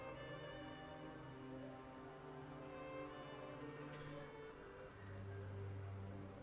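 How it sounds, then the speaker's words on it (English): Steady light drizzle of rain, a soft continuous patter forming a dim, dreary ambience with a faint low hum beneath, no talking. "Is it still raining outside? It is. If any rain, it's like a very subtle drizzle."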